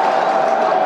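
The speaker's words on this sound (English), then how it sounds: "Listen to that applause." A football stadium crowd at Millwall against Leicester City applauds in a brief, steady wash of clapping and crowd noise from a distance.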